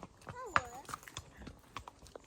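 Pony hooves clip-clop softly outdoors in an irregular walking rhythm, faint and nearby, with people talking over them.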